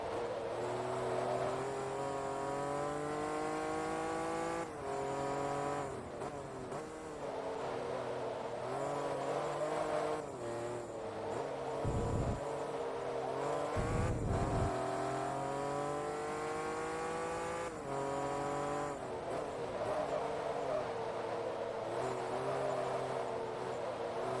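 Race cars in Forza Motorsport 2 lapping the Mugello circuit in an endurance Supercar Grand Prix, engines droning and rising and falling through gear changes steadily throughout, loud and continuous with cars passing, no talk.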